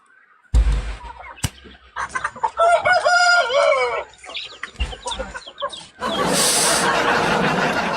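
A rooster crows in a drawn-out, warbling call amid scattered clucking from nearby chickens, followed by a louder burst of hissy, noisy farmyard commotion toward the end.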